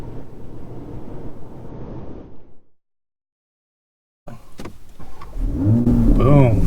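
A modified 527 hp 2020 Toyota Supra engine cranks and fires up after a brief silence, then settles into a loud, close idle with rising revs.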